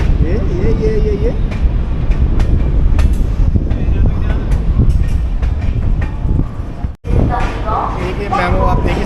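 An LHB Garib Rath train from Anand Vihar picking up speed, a loud steady rumble of wheels and carriages heard from inside, with someone talking over it and a brief dropout near the end.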